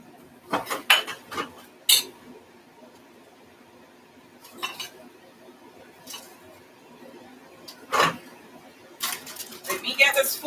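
A serving platter and other dishes clatter and clink as they are moved around a kitchen counter, in scattered bursts of close knocks and rattles with stretches of quiet between, while a voice talks briefly.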